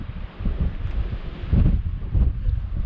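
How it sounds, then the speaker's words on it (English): Strong gusting wind buffets the microphone high on the Bealach na Ba mountain pass in Scotland, a steady low roar that swells into heavier gusts around the middle and near the end. "Not with this wind."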